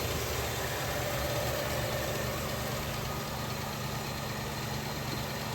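A 1967 Chevelle barn-find engine idles steadily, a continuous low rumble with broadband hiss, no voices over it.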